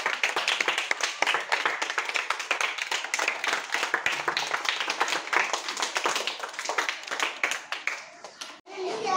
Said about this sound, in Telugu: give her big round of applause